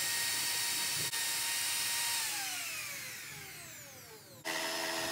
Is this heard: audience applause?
no